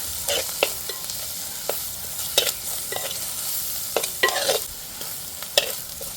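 A pearlspot fish curry with crushed chilli and a pinch of turmeric simmers and sizzles in the pan, with repeated close scraping and clacking strokes of a stirring spoon over the frying hiss and no speech.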